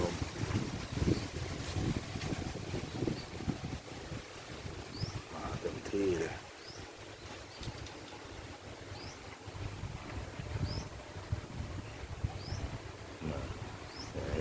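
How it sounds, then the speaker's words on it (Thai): Strong evening wind buffeting a microphone outdoors, a constant rushing roar with low gusty bursts, while a person speaks intermittently over it and faint chirps sound in the background. "ลมลมลม"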